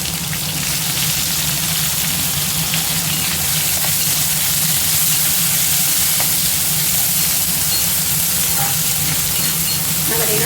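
Green chillies and onion fry in a pan with a continuous loud sizzle and hiss, occasional stirring clicks poking through the steady crackle.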